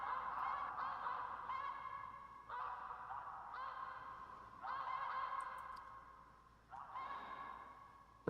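A flock of geese honks repeatedly in the theHunter Classic hunting game, clear overlapping calls in bursts over a soft outdoor background.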